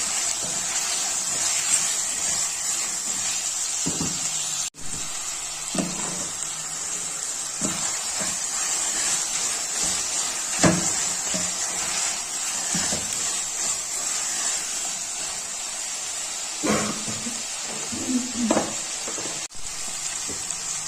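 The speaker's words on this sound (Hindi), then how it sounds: "अब इनकी अच्छी तरह भुनाई करेंगे।" Chicken sautéing in a hot pan for tinda curry, a steady loud sizzle throughout with occasional stirring scrapes and crackles, no talk.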